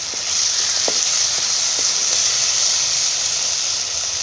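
Manathakkali (black nightshade) berries fry in a pan with a constant loud sizzle and hiss, broken by a few small pops and crackles.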